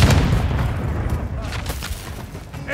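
A grenade goes off in a multiplayer shooter video game: a loud low boom opens, then a rumbling tail that slowly fades under continued gunfire-like crackle.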